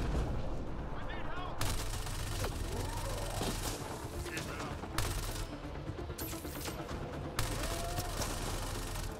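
Machine gun fire in the video game Mass Effect Andromeda, a dense, continuous stream of rapid shots and impacts over game noise, with voices speaking at times.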